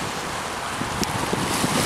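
Strong gusts at a marina on a windy afternoon roar steadily and buffet the microphone, with faint lapping water underneath and no voices.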